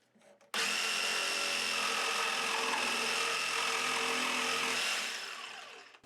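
A Ryobi P5231 jigsaw cutting through 1 1/4 inch pine: a sudden loud, steady buzzing rasp held for about four seconds, then winding down as the blade slows, with no talking.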